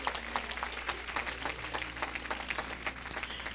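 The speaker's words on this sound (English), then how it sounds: "Come on and give God a clap offering." A church congregation clapping together during a worship service, a steady patter of many hands at moderate level with a low hum beneath, carrying on throughout without speech.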